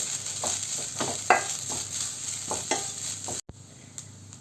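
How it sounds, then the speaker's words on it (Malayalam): Grated coconut roasting in a pan gives a steady close sizzle with soft, regular stirring scrapes, then a sharp knock and a quieter hiss afterward. "ഒരു പിടി ചെറുകിയ നാളികേരമാണ് ചേർത്ത് കൊടുക്കുന്നത് നന്നായിട്ടതൊന്ന് ഇളക്കി യോജിപ്പിച്ച് ഒന്ന് മൂപ്പിച്ചെടുക്കണം"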